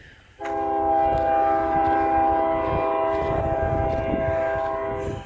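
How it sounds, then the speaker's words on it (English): A train horn blares loudly and steadily after a brief quiet start, sustained over the rumble of a passing train close by. "All right, we got this train coming."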